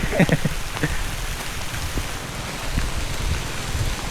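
Steady rain patters on a surface, a dense continuous hiss with a few sharper drops near the start.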